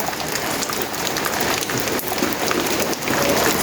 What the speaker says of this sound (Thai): ฝนตกก็บ่ยอมหยุดอีก